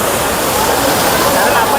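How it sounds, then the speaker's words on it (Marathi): Big monsoon waterfall beside Khondane cave near Karjat, a loud, dense, unbroken roar of falling water, close and steady throughout, with a voice briefly over it. "मोठा धबधबा."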